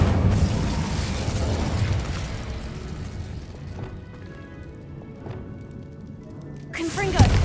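The Incendio fire spell is cast in Hogwarts Legacy: a loud whooshing, crackling burst with rumbling booms that fades into a quieter tail, followed by a sharp pop near the end, with talk mixed in.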